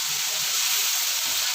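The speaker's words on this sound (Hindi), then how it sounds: "प्याजों को बिल्कुल हमने ट्रांसपेरेंट होने तक फ्राई करना है" Sliced onions fry in hot oil in a home kitchen, giving a continuous bright sizzle and hiss that stays loud and even throughout.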